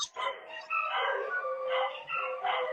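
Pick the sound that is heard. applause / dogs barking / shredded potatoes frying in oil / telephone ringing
dogs barking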